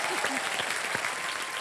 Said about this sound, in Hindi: जोरदार तालियां इन तीनों के लिए।